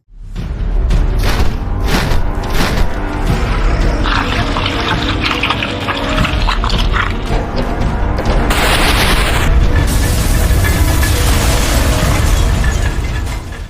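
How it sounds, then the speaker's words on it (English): A bridge crumbles and collapses in a loud, continuous rumble of booms, cracking debris and rushing noise, swelling into a large burst midway and roaring on without voices. "Chaos erupted as the bridge began to crumble."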